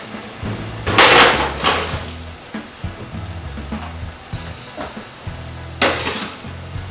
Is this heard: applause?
no